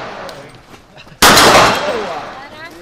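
A loud, sharp gunshot at a shooting course cracks out after some talk and quieter shots, then rings and decays over the next second and a half.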